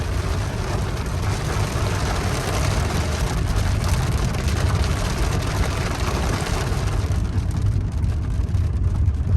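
Steady low road rumble and engine drone from inside a moving Toyota Camry after shock and strut replacement, with broadband tire and wind noise holding constant throughout.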